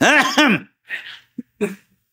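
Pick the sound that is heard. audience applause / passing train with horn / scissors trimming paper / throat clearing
throat clearing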